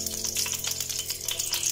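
Oil and ghee sizzle steadily in a pan while a squid Chettinad masala cooks, a loud, close, continuous frying hiss with faint clinks and no talking.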